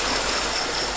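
A river running beside shrimp ponds makes a steady, close rush of flowing water, even and unbroken, with no voices over it.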